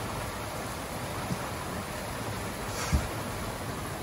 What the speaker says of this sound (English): A lot of rain, a lot of thunder outside.